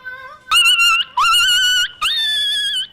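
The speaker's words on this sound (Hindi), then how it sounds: "कौन सा कुत्ता रो है" A dog whines and cries in three drawn-out, high-pitched wavering bursts, close and loud, with brief pauses between them.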